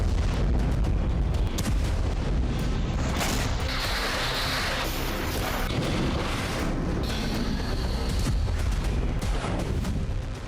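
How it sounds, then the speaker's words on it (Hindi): Solid-fuel hypersonic missile launching, a loud continuous roaring blast with crackling bursts throughout, dense and close, with no talk. "रिपोर्ट्स के मुताबिक ये सॉलिड फ्यूल वाली हाइपरसोनिक मिसाइल थी, जिससे सफेद धुआं निकल रहा था।"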